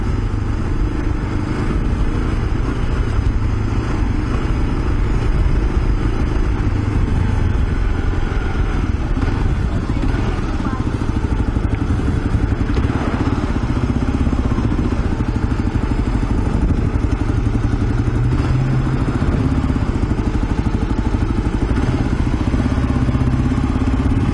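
A Kawasaki KLR650 motorcycle cruises along a Brooklyn street on 86th Street, its steady single-cylinder engine drone continuous and close amid wind rush and occasional road clatter and thumps.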